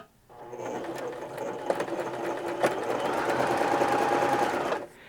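A Baby Lock Zest sewing machine runs a wide zigzag stitch, a close, steady mechanical whir with rapid rhythmic needle clatter lasting about five seconds before stopping abruptly, with no voices.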